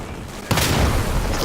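A grenade explodes in the World War II shooter Day of Infamy during the Dunkirk invasion, a sudden loud blast that keeps rumbling densely to the end, rising out of quieter battle ambience.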